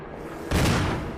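A single missed gunshot in the video game Resident Evil: one sudden, loud, broad crack that cuts in midway and fades out over a low, steady background.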